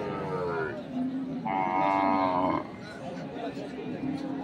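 Cattle low repeatedly at Ambari livestock market, where Sahiwal, Sindhi and local deshi dairy cows and calves are sold; a long, loud moo stands out above steady crowd chatter, with other lowing heard nearby.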